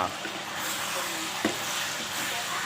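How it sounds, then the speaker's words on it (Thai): Pork pieces tossed with garlic, oyster sauce and light soy sauce fry in a pan, giving a steady, close broadband sizzle with a brief clatter partway through and no talk. "นำมาผัดนะครับ นำมาทอดทอด นะให้สุกนะครับ"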